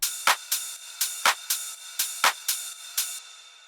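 Electronic dance drum loop with crisp hi-hats, a ride cymbal and reverb-washed claps, a steady bright pattern of sharp hits repeating about twice per second, clean with no voices.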